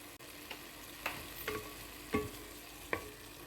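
Coriander chutney ingredients fry softly in a pan, a faint steady sizzle broken by a few scraping stirs of the spoon, close by and with no talk.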